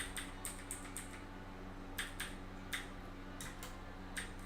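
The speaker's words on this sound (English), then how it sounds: "Screw the music, just keyboard ASMR?" Clicky computer keyboard typing in bursts of quick keystrokes with short pauses between them, fairly faint and close over a steady low hum, with no talking.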